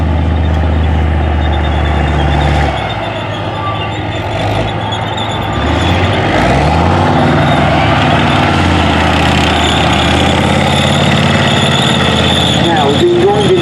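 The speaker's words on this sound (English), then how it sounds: "Relatively light tank compared to other NATO tanks in service, but a very powerful MTU diesel engine to keep it going." A Leopard tank powered by an MTU diesel engine moves around an arena, its heavy engine droning loudly and continuously with a deep low rumble that shifts in pitch, while a commentator talks over it.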